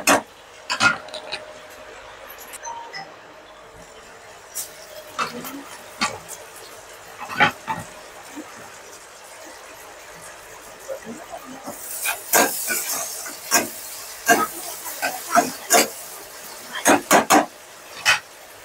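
Tomatoes drop into onions frying in a pan for a pasta dish, setting off a steady hiss with bursts of louder crackling and spatter, the sizzle swelling partway through.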